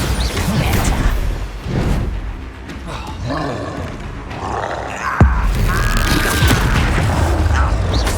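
Spell blasts and explosions in the video game Hogwarts Legacy: dense, loud booms, whooshes and crackling impacts in a continuous battle din, with one sharp blast standing out midway.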